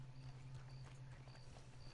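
Horse hooves clip-clop at a steady walking pace in the video game Red Dead Redemption 2, soft and regular over a low constant hum.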